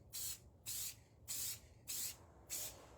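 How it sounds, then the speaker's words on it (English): Rust-Oleum satin spray sealer hisses from an aerosol can in five short even bursts with brief pauses between, fairly quiet and close, applied as a light film over a painted surface. "So I'm going to come in with this Rust-Oleum in satin. We're going to go ahead and spray a light film over this."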